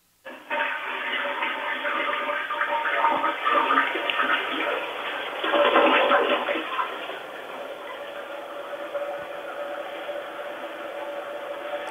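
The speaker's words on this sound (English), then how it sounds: "Do you think you could flush the toilet real quick" Household toilet flushing up close, a loud rushing gurgle of draining water that surges midway, then settles into the quieter steady hiss of the tank refilling.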